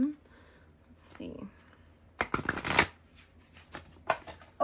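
Close, crisp riffling of a Green Witch Oracle card deck being shuffled, with a couple of quick bursts of card flutter separated by quieter pauses.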